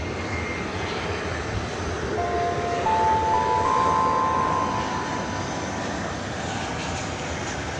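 A Delta Airbus A319 arriving at DFW airport at night from Salt Lake City gives a steady, moderately loud engine roar. Faint whining tones rise briefly in the middle as it passes.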